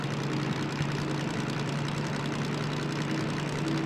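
A DM3 locomotive engine over-revs in the Derail Valley train simulator, giving a steady, strained drone with a constant low hum throughout.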